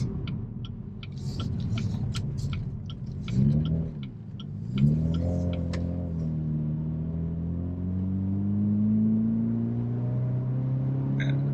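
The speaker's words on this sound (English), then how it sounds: "If you give a bit of throttle, a nice burble." A Chevrolet Camaro 50 Years Edition muscle car burbles as the throttle is blipped. A crackly idle rises into a smooth, swelling engine drone that climbs gradually in pitch, close and steady with no talk.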